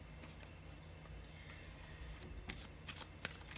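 Tarot deck shuffled by hand, soft papery riffles and a few sharper card snaps, quiet and close with no talking.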